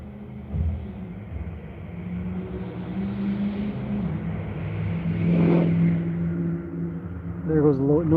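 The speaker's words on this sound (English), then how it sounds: "there goes a noisy truck pulling a trailer" A noisy truck pulling a trailer rumbles past, swelling from a low drone to a loud nearby peak and then fading, with a person talking over it near the end.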